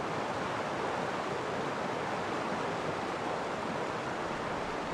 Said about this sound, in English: More water than I've ever seen in my life. I believe this is called a river, mistress.